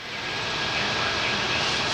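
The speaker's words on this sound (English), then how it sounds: "We'll take the flapper disc," Flap disc grinder smoothing welds on a John Deere 112 push blade modification, a loud steady broadband whine that ramps up and holds continuously without pause.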